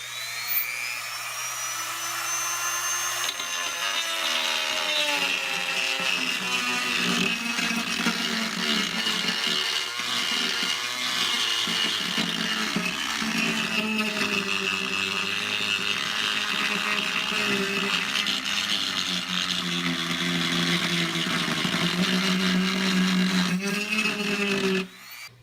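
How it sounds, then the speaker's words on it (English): A Dremel rotary tool grinds out the tweeter opening in a 1974 Mach3 speaker cabinet, making a loud continuous high whine with shifting pitch as it bites into the wood. It runs close and steady for about twenty seconds before stopping abruptly. "so I'm going to Dremel that opening just a little bit bigger"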